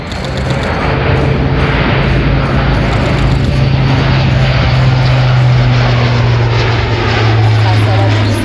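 An Airbus A400M military propeller transport plane roars loudly and steadily overhead during an air show tactical display, its deep engine drone holding throughout with a low droning hum.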